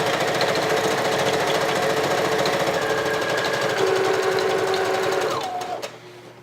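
A sewing machine stitches around the edge of a fleece blanket with a loud, fast, steady mechanical chatter that winds down and stops near the end.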